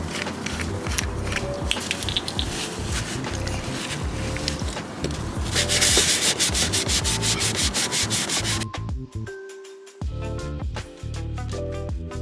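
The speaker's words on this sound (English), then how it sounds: "I'm gonna try to clean up some overspray here with some acetone" Rapid scrubbing with a cloth and acetone to lift paint overspray from a BMW E46 body panel, a steady close rub with a brief pause near the end before rubbing resumes.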